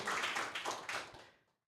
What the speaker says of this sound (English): Please, ladies and gentlemen, give a round of applause to our lecturers today.